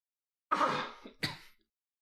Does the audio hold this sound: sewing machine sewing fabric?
no